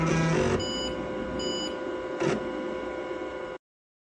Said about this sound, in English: does a check of attached diskette drive, which any PC floppy drive owner of the last 40 years will most likely be able to